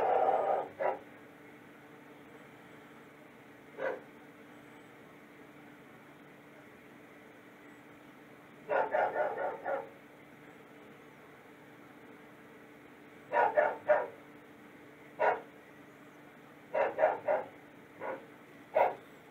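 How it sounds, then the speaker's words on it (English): A dog barks outside a house window in short clustered bursts, single yaps and quick doubles and triples spread irregularly across a long stretch, with steady quiet background hum between them and no talking. "He never stops barking."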